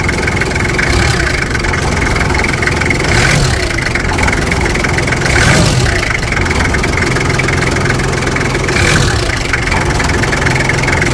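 A Toyota 1HZ diesel engine idles steadily and loudly up close, a continuous even rumble with faint periodic knock and no voices.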